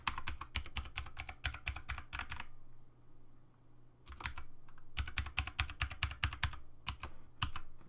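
Typing on a computer keyboard while checking an English US layout during an Ubuntu install, producing rapid clusters of crisp, close key clicks, then a short pause and more bursts of taps.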